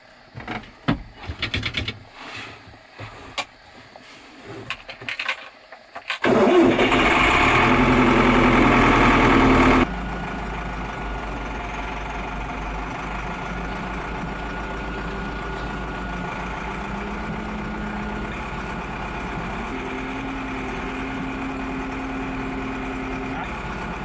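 A tractor engine idles and runs steadily while it clears snow piles in winter. A loud burst comes first, then a sustained mid-low drone, with some scraping and clunking at the start.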